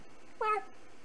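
A single short cat meow from the King's Quest 3 video game, clear and alone, lasting about a fifth of a second over a faint steady background.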